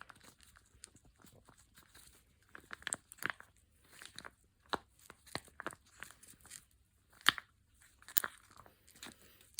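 A stick stirs and scrapes an industrial mold mixture against the sides and bottom of its container, giving irregular close scratchy strokes and gritty bursts with quiet pauses between.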